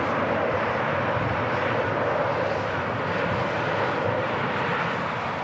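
Airliner engines roar steadily and loudly throughout a gusty short final approach at Manchester Airport, the broadband rush holding close and constant with no voices.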